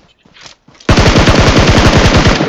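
Rapid automatic gunfire in the mobile shooter BGMI, a loud, close burst of evenly spaced shots lasting well over a second after a few faint clicks.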